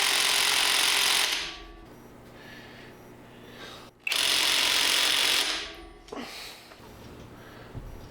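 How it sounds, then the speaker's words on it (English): Pneumatic impact wrench cranking down on a full-size axle fitted to a small Jeep, two long loud hammering bursts separated by a quieter pause, with a faint clunk afterward. "We're going to crank down on this with the impact until it feels right."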